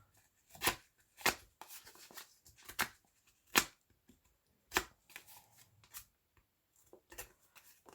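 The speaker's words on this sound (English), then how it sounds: "it's fun to just rough up the edges with one of these Tim Holtz" Paper edges roughed up with a Tim Holtz distressing tool for a woodland fairy journal, heard as a series of short, crisp scraping strokes in irregular bursts, close and fairly quiet, with no talking.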